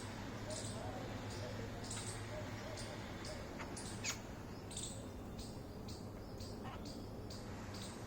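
Small birds feeding on kheer set out among rockeries give short, repeated high chirps and tweets scattered through a steady, noisy outdoor background.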